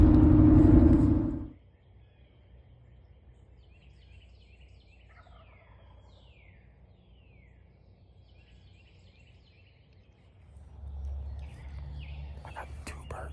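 Wild turkey gobbling heard outdoors in New Jersey on a cold early morning, a short loud burst at the start followed by quiet ambience and faint distant sounds, with a low rumble building near the end.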